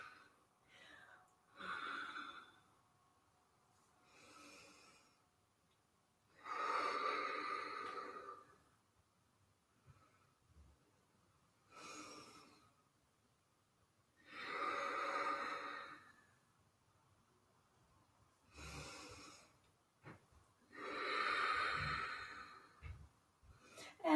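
Slow, deliberate breaths drawn and pushed out through a yoga flow into side angle pose, a steady rhythm of soft, airy exhales broken by quiet pauses, close and faint.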